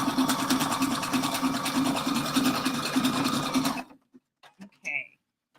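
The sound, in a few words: sewing machine sewing a three-step zigzag stitch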